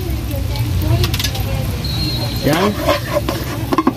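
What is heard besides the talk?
stir-frying carrots with garlic and onion for pork chao fan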